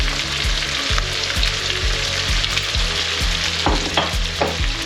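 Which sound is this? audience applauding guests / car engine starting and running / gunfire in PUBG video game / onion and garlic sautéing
onion and garlic sautéing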